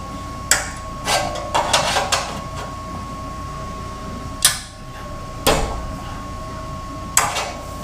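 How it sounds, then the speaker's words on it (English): A hammer shapes metal for a new back-half frame on a 1997 Toyota Tacoma drift truck. Sharp, close metallic strikes come in small irregular clusters, with pauses between them, over a steady low hum. "I do know how to shape metal with a hammer a little bit"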